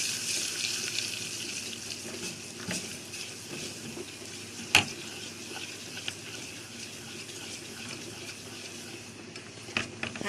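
Chili sauce is stirred in a frying pan with a faint, steady sizzle and soft scraping, a few brief clicks of a spoon against the pan, quiet and close.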